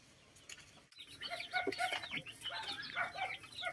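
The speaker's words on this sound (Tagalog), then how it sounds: "Ito yung aking manok na combination ng pure native at saka upgraded native" Several native and upgraded native chickens cluck and chatter close by, a busy overlapping flock sound with no talking.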